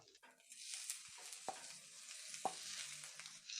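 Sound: washed fenugreek leaves added to frying chutney in iron pan

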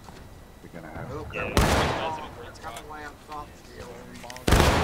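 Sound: buckshot musket volley in video game War of Rights

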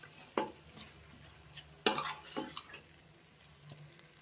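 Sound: stirring curry in a pan

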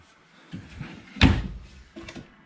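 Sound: kitchen drawers in a travel trailer opening and shutting

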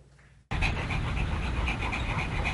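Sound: dog panting

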